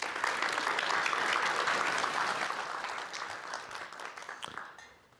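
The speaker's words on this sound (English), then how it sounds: "One more applause." Audience applause at a talk or panel event, a steady round of clapping from a room of people that holds for a few seconds and then gradually fades out.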